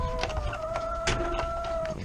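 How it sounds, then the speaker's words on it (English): Backyard chickens in an urban homestead coop give short clucks and a drawn-out, tonal call, close by and fairly loud, with faint rustling around them. "I got 4 chickens in there if you couldn't tell"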